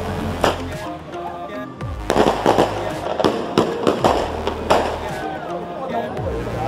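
A large firework mortar bursts repeatedly outdoors, with loud, sharp cracking blasts and crackling debris that come in quick succession across the whole stretch, while excited voices talk underneath.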